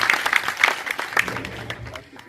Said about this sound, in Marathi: हे गावकऱ्यांनी सर्वांनी त्यांचं टाळ्या वाजवून स्वागत करायचं.